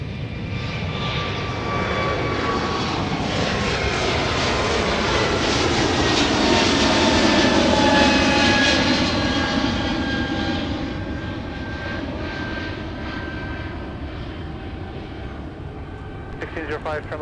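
Delta Airbus A220 jet departing the Minneapolis–St. Paul airport, a loud, continuous engine roar that builds to a peak and then slowly fades as it climbs away, with a voice talking over it.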